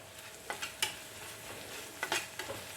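Onion, coconut pieces and crushed black pepper are sautéed in a pan, with a quiet background sizzle and a few spaced stirring scrapes of the spatula.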